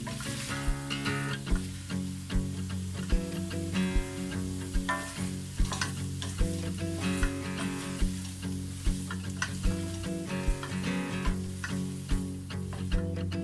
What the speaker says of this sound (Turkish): şimdi yeşil biberlerimizi ilave ediyoruz. Bunları da bir 5 dakika kavuruyoruz.